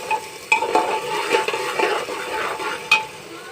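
Khichdi ingredients with salt being stir-fried in a pan: a spoon scrapes and clinks in close, irregular strokes over a soft sizzle, with a few sharper knocks against the pan.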